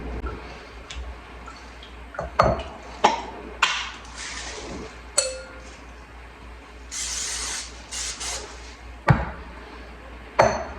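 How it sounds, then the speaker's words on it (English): A bowl used for bagel dough is washed and dried by hand in a kitchen, with running water, splashes and sharp knocks and clatters of the bowl at irregular intervals. "Right behind me, I'm gonna wash and dry this bowl."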